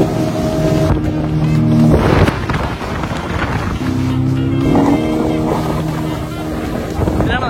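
Boats out on the water at Muttukadu boat house in Chennai, a steady outdoor rumble of engines and water with heavy wind buffeting the microphone and voices talking over it.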